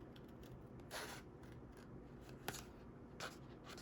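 Scissors cutting paper while making a candy box, a few faint snips and soft rustles spaced unevenly at close range over quiet background.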